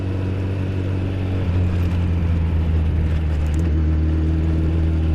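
A Yamaha FJ motorcycle on new Pirelli Angel GT tyres climbs a hill in second gear at a calm, even pace, giving a steady low engine drone with constant wind rush and no speech.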